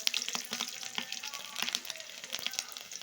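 Garlic dropped into hot oil with fennel seeds for an egg curry, a quiet crackling fry with scattered pops and light stirring, no talking.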